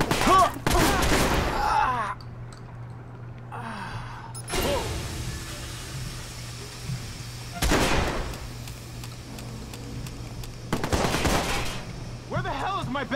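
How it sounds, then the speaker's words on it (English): Gunfire in the Watch_Dogs video game comes as several separate loud bursts of shots with quieter stretches between them, mixed with game voices and a low steady hum. "Shot fire! Shot fire! I'm taking fire!"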